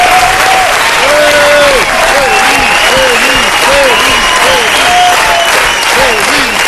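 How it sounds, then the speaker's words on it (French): A TV studio audience applauds loudly and steadily at close range, a dense unbroken wash of clapping while a host speaks over it. "On peut l'applaudir bien fort."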